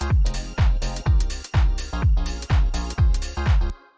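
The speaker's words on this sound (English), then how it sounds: "with this kick, like I said, it's just like this kind of bigger, more boomy sample" A low, boomy kick drum sample tuned down to C, for a chill house track, hits about eight times in a steady rhythm, each thump deep and loud with a short decaying tail, alone with no talk.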